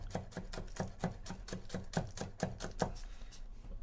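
Green onion being chopped with a knife on a board, about a dozen crisp, evenly spaced close taps in a quick steady rhythm, with no talking.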